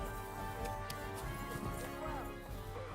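Horse in the Kingdom Come: Deliverance II video game, hoof clip-clop and horse sounds within a busy game soundscape with music-like tones, moderately quiet, with a voice speaking over it.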